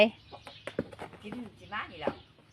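A hen clucks in short repeated bursts close by, mixed with other fowl sounds and a low steady hum underneath.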